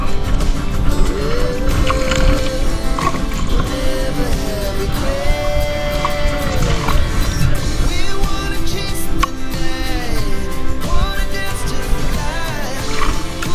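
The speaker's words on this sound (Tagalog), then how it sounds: "Inaanod, lumalayo yung bangka." A small fishing boat drifts on open water after a storm, its motor droning steadily with the wash of water alongside, close and continuous throughout.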